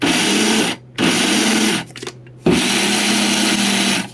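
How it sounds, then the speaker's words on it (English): Electric grain grinder straining as it grinds seeds for bread flour, a loud close motor whine in three long bursts separated by short gaps. "I can already hear the grinder working hard"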